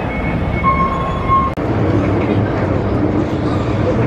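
Onboard a train in Hong Kong, a steady low rumble of the moving carriage fills the clip, with a faint brief tone and a short break midway, under a background of voices.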